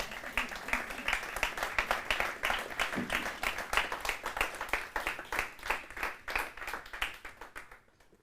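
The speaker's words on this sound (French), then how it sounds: "On peut d'abord applaudir?" Audience applause at the close of a legal master class given by a former Paris bar president, a steady dense patter of many hands clapping throughout, fading out at the very end.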